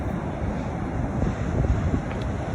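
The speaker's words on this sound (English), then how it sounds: "And all the waves coming in." Steady ocean surf rolls onto an Oregon beach in February, a dense continuous roar mixed with gusty wind buffeting the microphone, with no distinct breaks between waves.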